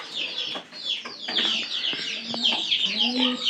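Pigeons on a rural farm give low, soft coos near the end, mixed with busy high chirping from other birds throughout, moderately close and steady.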